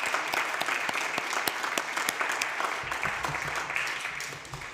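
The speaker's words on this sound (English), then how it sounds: "let's give a round of applause to all the volunteers in Grey Highlands" An audience at a Grey Highlands community year-in-review event gives a sustained round of applause for local volunteers. Many hands clap in a full, even wash that fades slightly toward the end.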